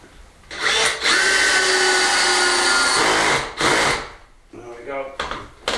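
A power drill whirs in two loud, sustained bursts after its bit is swapped, driving in during a hay loft restoration, with a short gap and a brief final burst at the end.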